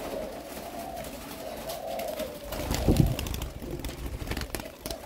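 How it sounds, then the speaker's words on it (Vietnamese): Spotted doves kept in cages give low, soft cooing calls, with one louder, nearer burst midway amid faint background hum. "Hai bọn này gù nãy giờ cũng 15 phút rồi"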